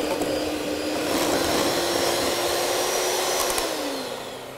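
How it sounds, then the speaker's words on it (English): Electric mixer beating butter and sugar together in a bowl, a steady loud whirring drone that holds for a few seconds and tapers off slightly at the end. "I'm going to add half of my sugar. It's going to beat this together till it's nice and soft and creamy."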